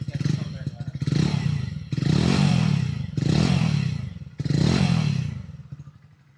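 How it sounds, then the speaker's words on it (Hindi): Hero Splendor Plus Xtec motorcycle, a 2024 disc brake model, with its exhaust note rising and falling through repeated revs from idle, about five close, loud bursts of engine sound in steady succession with no talk. "आइए एक बार आपको एग्जॉस्ट का नोट सुना देता हूँ सो so, आइडल पे कुछ ऐसा रहने वाला है इसका साउंड और जब आप रेव करेंगे"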